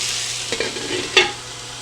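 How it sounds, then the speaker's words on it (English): Potatoes frying in a skillet while being stirred, a steady close sizzle with a few short scraping bursts from the spoon and no talking. "I am going to check it every few minutes and kind of just give it a stir to make sure nothing's burning on the bottom."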